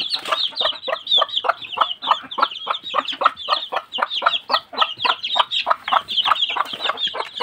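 Young chicks being fed dung worms on a farm give a dense, continuous chorus of high-pitched clucking and cheeping, many birds close by, calling rapidly and steadily with no talk.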